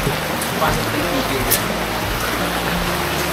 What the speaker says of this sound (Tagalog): At ito na nga, umuulan-ulan.